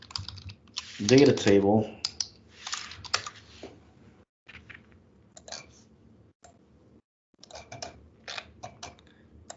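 Typing on a computer keyboard while building a web app interface, bursts of quick light key clicks close to the mic, following a short spoken phrase and continuing with brief pauses.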